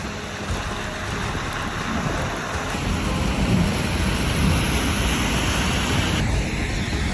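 Rain or hail pattering steadily outdoors during a sudden snowstorm in Canada, a dense continuous wash of small impacts with wind, fairly close and even in loudness throughout.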